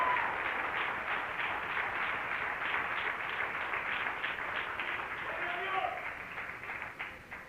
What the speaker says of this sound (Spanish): Denle un aplauso al Rey, pero déselo con todo su corazón